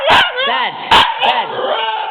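A husky puppy cries close and loud in a run of rising, wavering whines and yelps broken by short sharp noises, with no voices over them.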